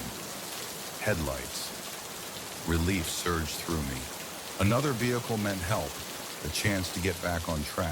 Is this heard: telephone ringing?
no